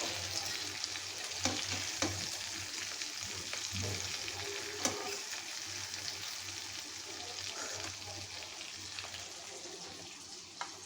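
Chicken sizzles steadily in a little oil, close and continuous, with scattered pops, clinks and stirring knocks over a constant frying hiss.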